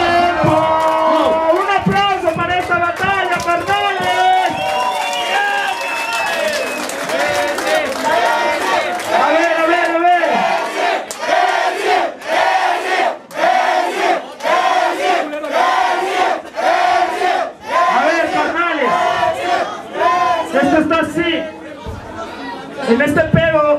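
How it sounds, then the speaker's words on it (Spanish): A crowd at a freestyle rap battle erupts in loud shouting and cheering, with chanting voices and chatter rising and falling in bursts over roughly twenty seconds. "¡Un aplauso para esta batalla!"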